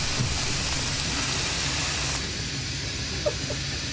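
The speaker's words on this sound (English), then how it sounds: "Too bad you ran into the steam." Steam hissing in the horror game Monstrum, a loud, steady broadband spray that fills the first half and then drops to a quieter, continuous hiss.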